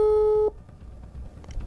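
A telephone busy signal sounds as one loud steady tone for about half a second, then cuts off and leaves faint background noise as the call goes unanswered.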